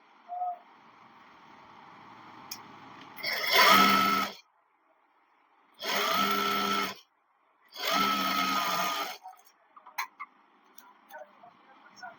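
Sewing machine stitching loose-fit pants in three short separate bursts, each about a second long, with quiet gaps between them and faint clicks after.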